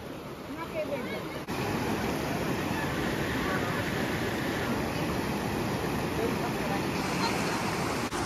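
Water flows steadily at Dhansar Baba near Katra, a constant broadband rush of moderate loudness that holds unbroken throughout, without any voices over it.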